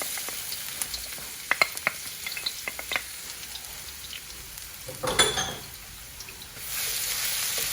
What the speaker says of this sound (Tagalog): Sinalang ko na yung ating wok Okay, naglagay na ako ng oil. Lagay na natin yung ating bawang.